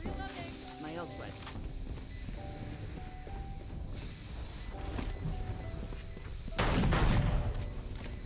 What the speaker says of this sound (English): Whoa, I got shot at?